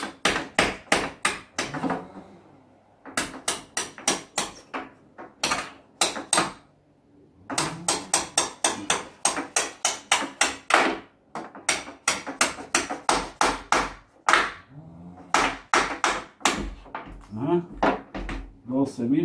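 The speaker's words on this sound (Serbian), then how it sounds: "i sad ovim čekićkom kuckaš gore" A small hammer taps repeatedly on a window frame to free a stiff sash, sharp close knocks in quick bursts separated by short pauses.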